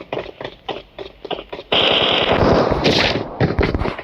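PUBG gunfire: rapid bursts of shots rattle off, followed by a long, dense stretch of sustained automatic fire, loud and close, without any talk over it.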